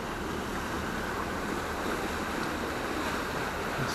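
Water flows steadily at the Foxton canal locks, a continuous rushing wash heard at moderate distance with no voices over it.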